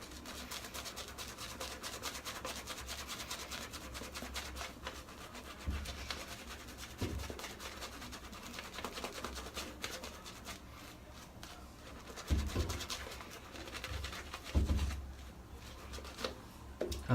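Blonde badger hair shaving brush, a Morris & Forndran 28mm three-band knot, with just its tips swept across a face: a continuous soft rubbing and scratchy bristle swish over steady strokes, close and quiet, with a few louder brushes near the end.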